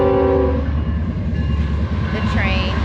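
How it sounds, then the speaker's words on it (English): A big freight train passes close by near the Salton Sea. It opens with a loud blast of its horn, then rumbles and clatters steadily with some talk over it. "we have a big train coming by us"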